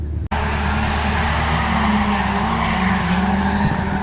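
Drift car tires squeal and skid under a loud, revving race car engine on a racetrack, sustained and close, with a short squeal-like tone near the end.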